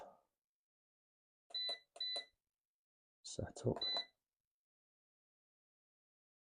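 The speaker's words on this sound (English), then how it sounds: "I believe you can turn that beeping noise off" An OBD diagnostic scanner, used on a Mini Cooper S R53, beeps in short electronic bursts: a pair of quick beeps, then a tighter cluster after a pause, mixed with a brief spoken word.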